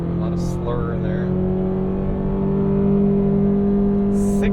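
A 2023 Cadillac CT4 with a 10-speed automatic in manual shift mode accelerates hard. A steady, loud cabin engine drone holds a high rev tone, with a brief shift-like break near the end and voices speaking throughout.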